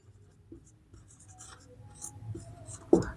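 Chalk or marker writing a number on a classroom board during a maths lesson, a soft scratchy scrawl in short strokes, fairly faint, ending with a louder tap or knock.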